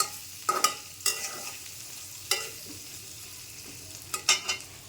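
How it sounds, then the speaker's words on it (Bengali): Fish pieces with salt and turmeric sizzle in a pan for a Bengali rui fish curry, with a few sharp stirring scrapes over the steady frying hiss, close and without talk. "1/2 চামচ লবণ, 1/2 চামচ হলুদের গুঁড়ি দিয়ে এইটাকে ভাজতে হবে অল্প একটু সময়।"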